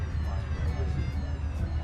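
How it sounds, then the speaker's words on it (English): A glider's cockpit warning siren sounds steadily, alerting that the spoilers are open while set for takeoff, a continuous tone filling the short moment at close range. "So you hear that siren right there?"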